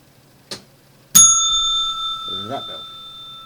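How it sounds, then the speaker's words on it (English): A bicycle-style bell rings out sharply after a soft tap, its bright tone ringing on and slowly decaying, with a brief murmur of voice beneath the tail. "That bell."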